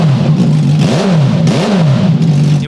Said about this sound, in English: Last week, we finally got the engine running.